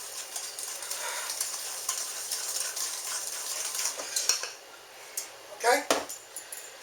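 Hard butter being mixed in a bowl for sweet potato pie filling, a soft continuous scraping and churning with a few louder knocks of the utensil near the end.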